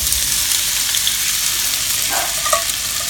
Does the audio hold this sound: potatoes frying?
yes